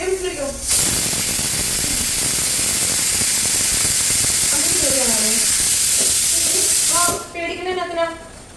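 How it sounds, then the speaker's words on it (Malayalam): A pressure cooker whistles: a loud, steady hiss of steam blasts for about six seconds, cutting off abruptly, with voices faintly audible before and after. "പയ്യെ കുക്കർ വിസിലടിക്കാനൊക്കെ തുടങ്ങിയിട്ടുണ്ട്"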